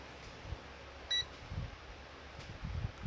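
A single short electronic beep from a multimeter in continuity mode sounds once, faint against low thumps and handling noise during repair of a Sony mini stereo system.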